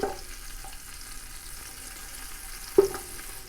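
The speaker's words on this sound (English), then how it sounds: "I'm throwing in the butter." Butter melts and fries in a large hot soup pot, giving a soft, steady sizzle, faint and close, with a couple of brief clinks, and no talk.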